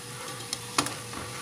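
Biscuit dough frying in hot oil in a crowded pan, a constant close-up crackling sizzle with a couple of brief stirring clicks, no voices.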